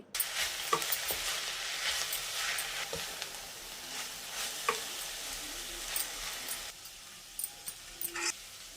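Amaranth leaves fry in a pan with chili powder, a steady close sizzle with scattered stirring scrapes and clicks throughout, no voices.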